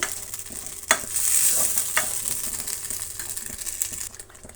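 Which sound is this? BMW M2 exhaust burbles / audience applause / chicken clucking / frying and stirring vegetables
frying and stirring vegetables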